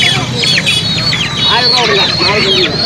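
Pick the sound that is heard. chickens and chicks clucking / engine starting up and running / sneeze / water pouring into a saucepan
chickens and chicks clucking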